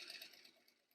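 A sewing machine runs briefly, stitching laminated cotton for an apron, its needle in a quick, steady rapid patter, fairly quiet and close.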